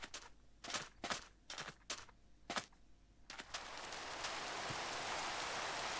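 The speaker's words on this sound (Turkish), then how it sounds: "Yine yağmur başladı." A series of soft clicking steps gives way to a steady, hissing downpour of rain that fills the background and continues evenly, in the game Minecraft.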